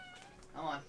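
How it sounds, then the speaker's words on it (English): A house cat meows repeatedly from indoors, complaining to be let out of a room, its harmonic cries swelling louder near the end while a person speaks briefly over it. "That is my cat complaining and wanting to get let out of the room."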